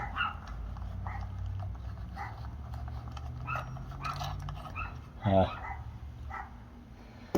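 Dogs bark a few times outside, faint and intermittent, heard from a garage, with a louder yelp near the end over a low background hum.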